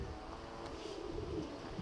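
Racing pigeons landing at a loft, soft low cooing heard faintly and close amid a dull background murmur.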